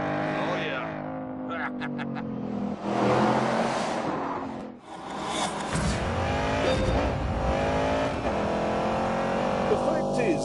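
A car engine revving hard and roaring up through its range, with a changing pitch and a brief dip, while excited voices talk over it; the car's engine is an old push-rod, two-valve iron unit.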